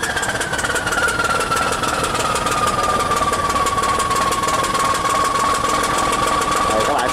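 Loud, steady drone of a new boat's engine running close by at sea, with a pitch that slowly drops and levels off.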